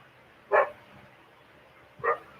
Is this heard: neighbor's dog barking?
yes